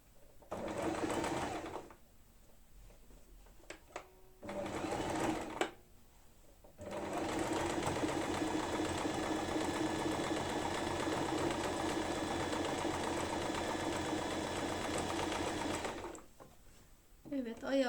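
A sewing machine running a zigzag stitch along the edges of a bag lining, in steady loud bursts of motor whir with short pauses between runs, then one long continuous run.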